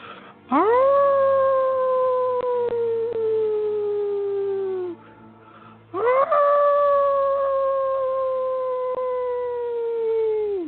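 Two long, loud, sustained howls that rise then slowly fall, separated by a brief pause, like a wolf howling up close, with nothing else heard.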